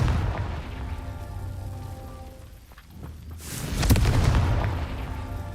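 Confringo blasting spell explosion in the video game Hogwarts Legacy, a deep booming burst landing near the end after a rumbling, busy stretch of game sound.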